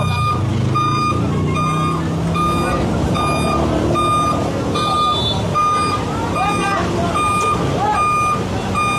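A dump truck reverses on a city street, its backup alarm beeping at a steady, regular pace above a rumbling engine and traffic noise, with people talking nearby.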